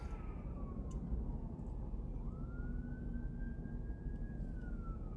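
An ambulance siren in Cheyenne, Wyoming wails in long rising and falling sweeps over constant low traffic rumble, somewhat far off.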